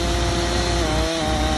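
A chainsaw engine roars continuously at close range while cutting down trees on a property, with a steady, loud buzz and no voices.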